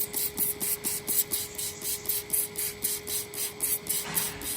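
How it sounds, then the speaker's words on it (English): Water jet spraying a cow's hoof, a pulsing hiss repeating in a steady rapid rhythm, close and fairly loud, with a faint mechanical hum beneath. "Right, we'll give it a bit of a jet out."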